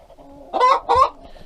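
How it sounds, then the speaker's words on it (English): Chickens cluck inside a chicken house, with two loud, close bursts of clucking over a low background of quieter clucks and hum. "Inside the chicken house here, are y'all busy? Am I interrupting?"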